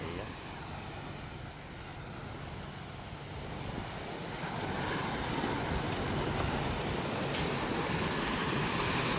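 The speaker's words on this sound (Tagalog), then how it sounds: "medyo meron tayong alon ngayon mga kamay" Sea waves stirred by the northeast monsoon wind wash and churn steadily near Bulongan, Tanza, Cavite, with heavy wind buffeting the microphone and the surf growing louder toward the end.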